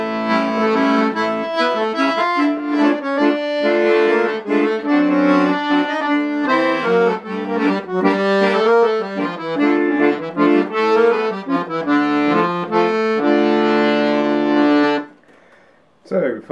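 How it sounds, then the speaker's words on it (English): A Crucianelli 120-bass accordion plays a lively tune on the bandoneon coupler, two in-tune reeds at normal pitch plus bass sounding together in rich, reedy chords, loud and close, ending abruptly with a short pause and a faint click. "Then we've got the bandoneon coupler, which is the two in-tune reeds, normal pitch and bass."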